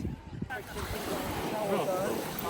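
Surf washing onto a seashore, a broad steady rush of breaking waves with wind noise on the microphone, continuous at moderate loudness after a brief quieter start.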